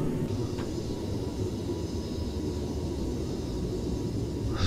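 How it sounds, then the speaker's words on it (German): A broad steady rumble of an approaching airplane in the AirportSim video game stays loud and continuous throughout, with no talking. "So, und da kommt ein Flugzeug angeflogen."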